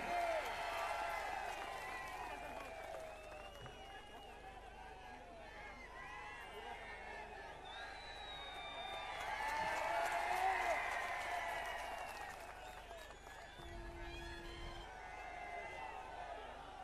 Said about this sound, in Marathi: उमेदवार आले, जरा टाळ्या वाजून त्याचं स्वागत करा.